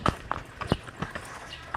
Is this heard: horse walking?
yes